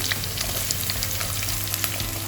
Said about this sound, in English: oil become hot. Add mustard. Add all the ingredients one by one. Garlic paste, onion,